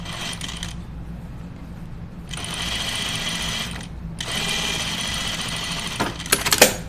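Domestic sewing machine running a quarter-inch seam on a uniform tunic, its motor whirring in two long sustained runs separated by a short pause, close and loud, ending with a few light clicks; no talk.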